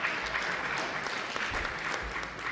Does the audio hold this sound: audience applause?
yes